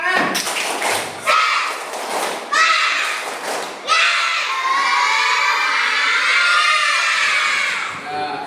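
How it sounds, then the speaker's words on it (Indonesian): Schoolchildren in a classroom burst into a loud rhythmic clap chant, a few sharp group claps and thumps followed by sustained shouted cheering voices close by. "Kalau senang, tepuk semangat."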